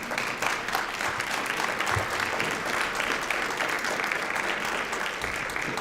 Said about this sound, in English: Everybody who's not raising their hands in here needs to give those people a round of applause